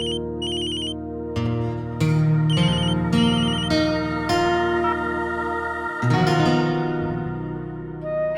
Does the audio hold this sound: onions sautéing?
no